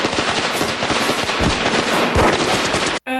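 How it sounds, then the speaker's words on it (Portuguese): Dense, continuous rapid gunfire during the Waco siege shootout, with cult members firing through a wall, loud and sustained with overlapping bursts before cutting off abruptly at the end. "Cult members fire quarter-sized holes through the wall and into this agent's shoulder"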